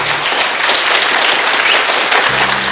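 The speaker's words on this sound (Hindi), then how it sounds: "इनके लिए जोरदार तालियां" Loud, sustained audience applause fills a Bhojpuri film awards show hall, steady and dense throughout with no talk over it.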